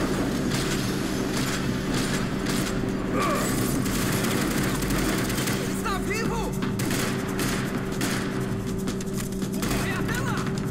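Gunfire in Max Payne 3 from a scoped gun, heard as bursts of shots over a continuous droning game backdrop, with faint voices underneath.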